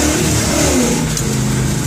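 A Pontiac GTO's engine revs hard at full throttle, a loud, close roar that holds steady without a break, with no voices.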